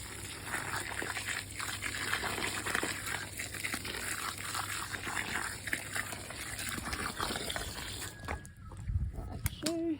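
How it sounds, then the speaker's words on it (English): Water gushes and trickles into a bucket of copra and meal feed for a milking cow, a steady wet pouring under ambient farm noise, ending in a few brief clanks. "And now very important to wet this properly. It needs a lot of water"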